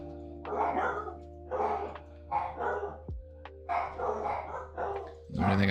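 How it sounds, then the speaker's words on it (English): Several dogs bark in repeated bursts, loud and close, with short gaps between volleys and a growl or yip mixed in. "Let me wait until these dogs shut up"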